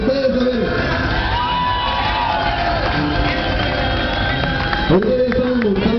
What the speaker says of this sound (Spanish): Y este es un fuerte aplauso para ustedes, a ver.